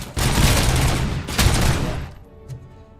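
Heavy gunfire in RoboCop: Rogue City, two loud sustained bursts of rapid shots, each about a second long, followed by a sharp single crack and fading echo.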